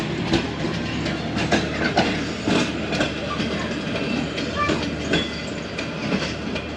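Rahman Baba Express passenger train rolling along the rails, heard from aboard with a steady rumble and repeated clickety-clack of wheels over joints, continuous and fairly loud.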